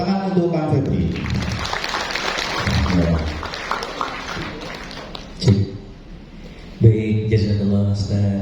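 Seminar audience applauding a guest speaker at a 2024 school parenting event, a broadband wash of clapping running under spoken voices and then fading, with speech taking over at the end.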